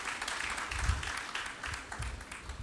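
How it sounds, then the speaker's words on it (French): A church congregation claps and acclaims together in a lively, fairly dense burst of applause with some low thumps, continuing for a few seconds. "Acclamons le Seigneur."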